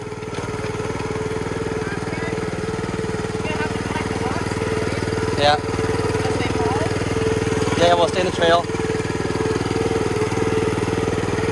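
A gas-powered wheelbarrow engine runs steadily in the background, a constant mid-pitched motor drone, while people talk briefly over it outdoors.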